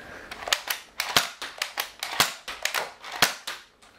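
A Nerf Rebelle Guardian Crossbow toy blaster is slam fired in quick succession, about a dozen sharp plastic snaps and clacks in an uneven rapid rhythm, close and loud with no speech.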